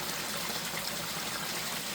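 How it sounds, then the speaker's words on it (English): Water falling from a newly built pond waterfall with strong flow, a steady, close, full-bodied splashing rush that continues unbroken and alone. "we need a fall that's really aerating the water"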